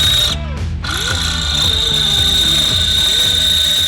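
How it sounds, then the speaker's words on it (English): A power drill whines at close range drilling holes in a turbo LS Chevrolet Nova, its pitch dipping and rising as it bites in, over a steady high-pitched hum. "Let's drill some holes"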